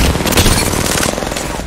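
Rapid video-game gunfire hammers the player in a dense, continuous burst of loud, close shots that fill the whole moment without pause.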